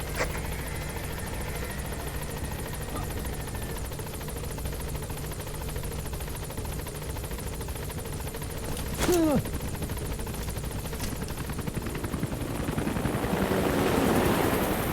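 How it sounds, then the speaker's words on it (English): A helicopter flies in the video game Metal Gear Solid V: The Phantom Pain, a steady low rotor drone running throughout, with a brief sharp electronic chirp midway and a rising whooshing swell near the end. "Just concern yourself with not falling out of my helicopter."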